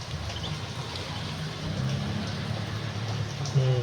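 Continuous rain and wind beat down steadily, a dense even hiss with low rumble throughout and a brief louder swell near the end, no voices.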